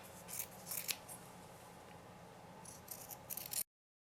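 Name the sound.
cutting out a fabric heart for sewing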